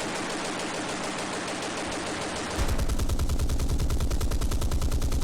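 37 mm flak guns in the Panzer Campaigns wargame open with a burst of hissing noise, then switch to loud, rapid rhythmic autocannon fire that hammers on steadily to the end.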